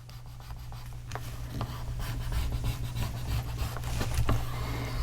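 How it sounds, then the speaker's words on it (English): A half-inch paper strip is being scored down its center, giving soft, irregular scratching and rubbing strokes that are faint and close, over a low steady hum. "So I cut a 1/2-inch strip and I am going to score down the center."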